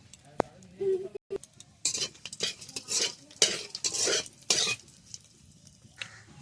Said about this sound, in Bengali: তেল গরম হয়ে গেছে দিয়ে দেব পাঁচ ফোড়ন আর শুকনো লঙ্কা ফোড়নে